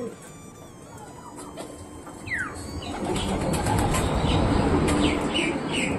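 A pair of pet pigeons flutters nearby, with bursts of wing flapping and a few short calls over a busy background rustle that grows louder toward the end.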